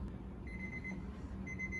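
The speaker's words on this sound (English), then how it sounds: "So now the timer's ready." A timer on a photographic exposure unit beeps faintly, giving two short high-pitched tones separated by about a second over a low background hum.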